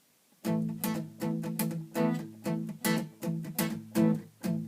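Chunky, damped guitar strums in a steady chugging rhythm, short and percussive, about ten hits played alone at moderate volume.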